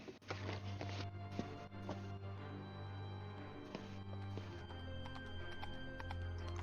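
Horses' hooves clip-clop in a steady walking rhythm under a low, droning musical backdrop, moderately quiet and continuous throughout.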